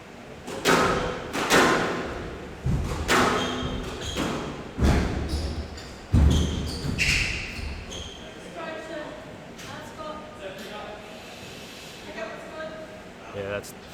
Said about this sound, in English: Oh, that's a good shot by Joel